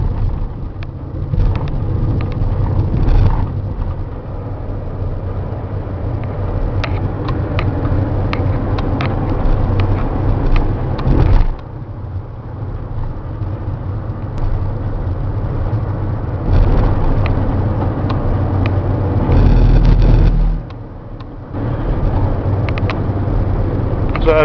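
Interior of a 2008 Mercedes Sprinter diesel cab chassis on the move, with a steady low engine and road rumble throughout, occasional bumps and rattles, and a brief dip near the middle.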